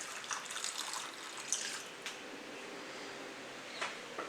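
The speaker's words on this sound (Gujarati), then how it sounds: "હવે એમાં પાણી ખૂબ જ સાચવીને એડ કરીશું આપણે" Water is poured carefully into mung dal while it cooks, making a faint, steady trickle with a few soft splashes and no talking.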